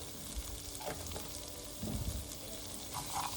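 Raw peanuts sizzle and fry in a pan, a faint, steady crackle broken by soft scraping and clinking as they are stirred, with no voices.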